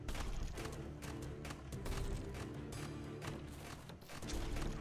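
Ship cannons fire nonstop in the pirate horde-survival game Sea of Survivors, a dense, loud barrage of overlapping thumps and booms over constant game noise that stays steady throughout.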